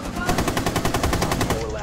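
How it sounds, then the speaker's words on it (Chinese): Rapid machine gun fire in the Rainbow Six Siege video game, a steady close burst of evenly spaced shots lasting about two seconds with no pause. "妈的，这个机枪威力伤害太高了，"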